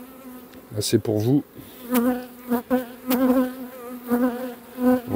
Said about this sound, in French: On est encore en présence de beaucoup d'abeilles d'hiver.